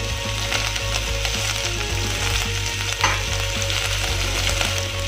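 Green chili and ginger garlic paste fry in a pan for a drumstick curry, making a loud, steady sizzle and crackle with a few light stirring scrapes.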